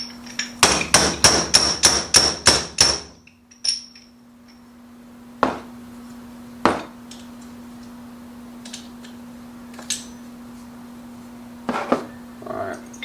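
A hammer tamps a part into a motorcycle suspension. A quick run of about eight sharp metallic blows comes first, then a few isolated taps follow over a faint steady hum.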